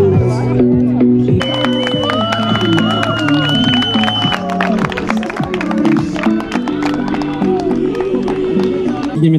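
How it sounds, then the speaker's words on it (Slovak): Crowd clapping and cheering at the opening of a chill-out zone, a dense, loud burst of applause mixed with voices and chatter that carries on steadily throughout. "vás poprosím veľký potlesk pre Chill Out zónu"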